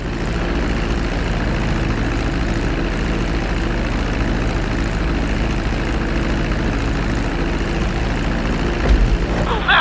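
A propeller airplane taxis on a runway in GTA 5, its engine giving a steady, loud, unchanging drone throughout.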